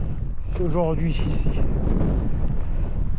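Strong wind on Mont Ventoux in Provence roars as a heavy, continuous rush of buffeting across the microphone, with someone speaking briefly over it.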